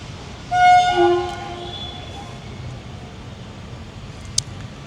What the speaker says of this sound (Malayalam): Coimbatore junction railway station.